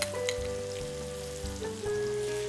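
Chili and spices frying in a pan while being stirred, a steady close sizzle with soft scraping strokes through it and no talk.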